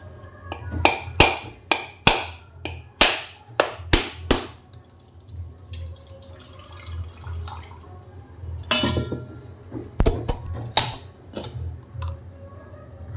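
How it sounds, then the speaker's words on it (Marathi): A thick homegrown village coconut is struck repeatedly with sharp, close knocks in a steady rhythm, then cracks open with splashing water and scattered taps. "आता मोदकासाठी आपण छान असं गावठी नारळ घेतला आहे तो फोडून घेऊया"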